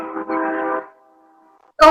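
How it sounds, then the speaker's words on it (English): A train horn sounds far off in the background, a steady sustained tone lasting nearly a second before fading out, followed by a sudden louder burst of sound. "Your train's going."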